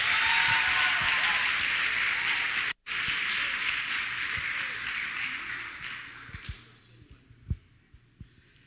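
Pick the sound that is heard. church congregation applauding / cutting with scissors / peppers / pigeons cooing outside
church congregation applauding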